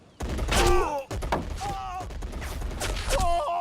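Gunfire in the Soviet campaign of the World War II strategy game Men of War, with sharp bursts and thumps of shots over voices and music, fairly loud throughout.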